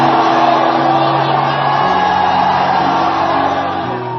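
A church congregation shouts a sustained cry of glory, a dense wash of many voices yelling and whooping together, loud and steady throughout with a few held tones rising above the crowd.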